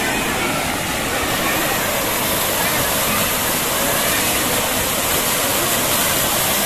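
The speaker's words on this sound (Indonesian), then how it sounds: "Itu air terjun, air panas ya." A hot spring waterfall roars in a steady, dense rush of falling water close at hand, loud and unbroken throughout, with talk faintly buried beneath it.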